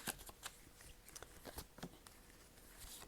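Tarot cards shuffled by hand, faint rapid riffles and soft flicking snaps in quick irregular bursts, close but very quiet.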